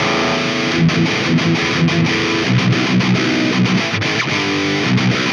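A heavily distorted electric guitar plays through an amp set with a scooped, V-shaped EQ for an 80s metal tone, loud chugging palm-muted riffs with short rhythmic stops, alone without talk.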